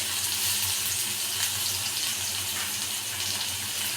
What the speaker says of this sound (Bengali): তেল গরম হয়ে গেছে, এবার পেঁয়াজ কুচোনোটা দিলাম